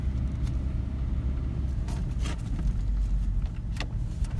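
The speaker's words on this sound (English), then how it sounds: "Still see cars going by" Cars rumble past on a road in a low, steady drone, heard at some distance with a few faint passing swishes and no voices.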